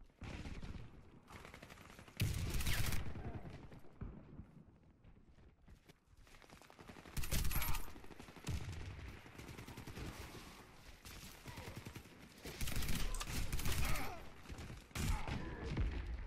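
Bursts of rapid gunfire from a Calico M951S fully automatic sniper rifle in the Warface video game, coming in several loud volleys separated by quieter stretches of game ambience and movement.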